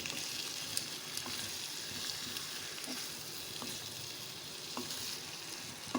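Spiced potatoes with amchur and garam masala frying in a pan give a continuous close crackling sizzle, with periodic scraping and light clinks as they are stirred.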